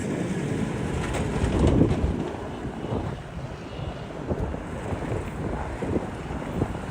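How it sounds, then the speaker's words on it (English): Gusty wind in Branch Brook Park, New Jersey, buffets the microphone with a continuous low rumble that swells and fades, loud and close, with no talking. "You can see how windy it is, and you can probably hear how windy it is."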